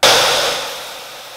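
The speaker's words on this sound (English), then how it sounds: "I'm going to use my miter saw for that." A miter saw slices through a 2x6 wooden board in one short, loud burst of whining cut that starts sharply and tapers off over about a second.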